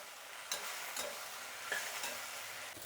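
Okra pieces fry in a pan and get stirred, giving a steady close sizzle with a few scraping stir strokes over the top.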